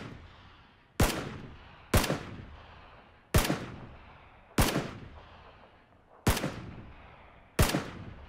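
Gunshots in the PUBG video game, six sharp, loud single reports spaced about a second or more apart, each trailing off in a short echo, with no talking.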